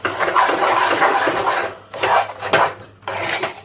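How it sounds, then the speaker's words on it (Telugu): Mango halwa being stirred in a pan, giving close, continuous scraping and rasping strokes that pause briefly and then resume in a few shorter bursts. "వీడియోలో చూపిస్తున్న విధంగా ఇలా మిక్స్ చేసుకోండి మంచిగా"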